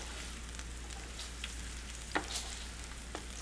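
Garlic toasting to light brown in a pan for bacon carbonara pasta gives a low, even sizzle with occasional small pops and utensil ticks, with no voices.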